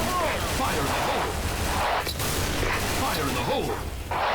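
Rapid gunfire and bursts from the online shooter Special Force, with a grenade blast, fill a busy, dense stretch of firefight that never lets up.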